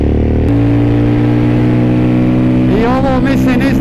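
Suzuki V-Strom 1000 motorcycle from 2014, its engine running steadily at high revs above 8000 rpm, a loud continuous drone close by, with a rising whine near the end as the revs climb; a voice talks over it.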